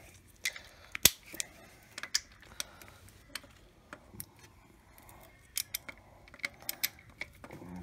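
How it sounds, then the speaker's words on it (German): A ratchet with an E14 socket works on a car belt tensioner in the engine bay of a Mercedes W203, giving scattered sharp metallic clicks and clacks close up, with a louder snap near the start and no talking. "mal sehen, ob wir mit der Ratsche da rankommen"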